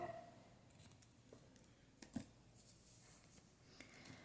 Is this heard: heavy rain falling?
no